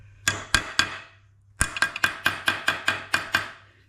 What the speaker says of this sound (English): you really need to be able to get in here with a hammer